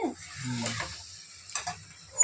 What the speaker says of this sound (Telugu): చికెన్ చక్కగా ఇట్లా సన్న మంట మీద వేసుకుంటూ ఉంటే